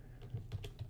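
Several key presses on a computer keyboard while working in Blender, soft irregular taps spaced through the moment, close and quiet with no talking.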